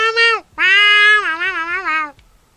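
A cat lets out a short meow, then a longer, drawn-out wavering meow close to the microphone, loud and clear with silence around it.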